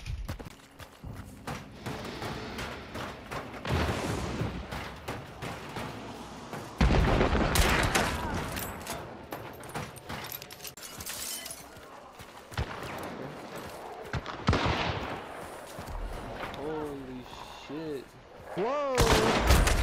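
Repeated gunshots and volleys of gunfire in the video game Hunt Showdown, sharp bursts scattered across a busy stretch with occasional quieter gaps and brief voices in between.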